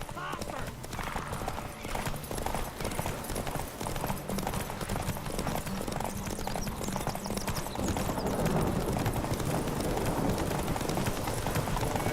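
Horse hooves clatter in a steady galloping clip-clop in The Witcher 3 game, continuous and fairly close, running under a bed of music and ambient game sound with voices speaking over parts of it.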